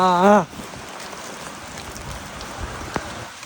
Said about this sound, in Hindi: हवा के साथ तो और ज़्यादा उड़ के आ रही है बारिश